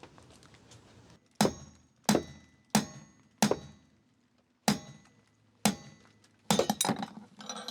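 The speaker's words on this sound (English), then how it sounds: "I will of course then continue to strike the nut with the hammer." Sharp metallic strikes ring out one after another, about eight hard hammer blows on a stuck windscreen wiper arm nut with short pauses between, ending in a quick flurry.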